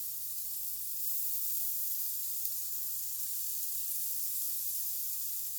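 Ground turkey for a southwestern-seasoned chili frying in a pan, a steady even hiss of sizzling meat close by with a constant low hum underneath, no talking.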